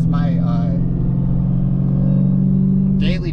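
A supercharged 6.2L Dodge Challenger Hellcat rumbles at a low, steady idle close by, its deep engine tone sustained under a voice.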